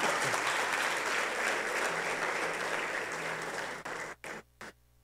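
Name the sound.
congregation applause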